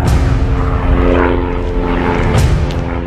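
A propeller airplane flies past with a loud, steady engine drone and airscrew hum, holding constant through the whole stretch with no voices over it.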